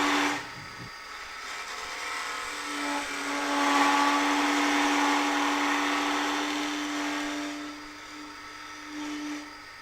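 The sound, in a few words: lathe chatter from heavy shear scraping cut, Robert Sorby multi-tip tool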